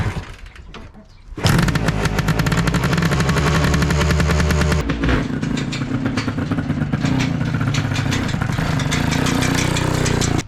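A fat trike's engine barks into life and takes off hard, a loud, rapid staccato exhaust hammering close by after a brief quieter start, with a short dip midway before the harsh pounding continues.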